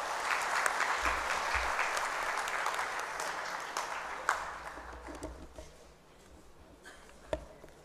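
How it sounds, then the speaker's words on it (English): An audience at an official ceremony launching cashless visa services in Dhaka applauds, sustained clapping that slowly fades, with a few sharper knocks and faint background noise. "A big round of applause."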